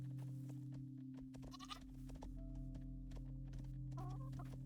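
Goats bleating on an animal farm in the game Rising World, a few short quavering bleats over a steady low hum, faint and somewhat distant, no talk.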